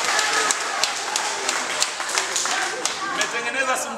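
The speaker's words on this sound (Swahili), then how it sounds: "Jipigieni makofi mengi." Outdoor audience at a Tanzanian ward political rally clapping, dense steady applause with sharper individual claps, voices mixed in.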